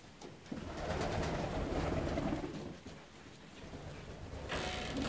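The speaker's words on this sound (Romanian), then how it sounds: "Porumbeii sunt la masa de seară." Fancy pigeons coo steadily at their evening feeding, a continuous soft rolling chorus of several birds close by, with faint rustling and no talking.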